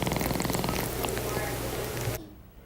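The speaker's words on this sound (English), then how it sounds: "He's eating on his own and even purring throughout the day." A cat recovering from surgery purrs steadily up close in a continuous low rumble for about two seconds, then the sound cuts off abruptly into quiet.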